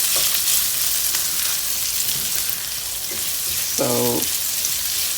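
Onions and cardamom pods frying in a pan, making a loud, steady broadband sizzle up close. A brief spoken word cuts in near the end.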